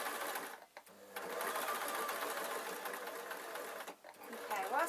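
A sewing machine stitches two layers of fabric for a small tooth-fairy pillow, its steady close whirring running nearly the whole time with two brief pauses.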